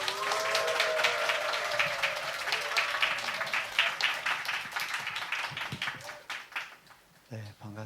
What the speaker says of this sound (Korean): 우리 함성과 박수로 환영하겠습니다.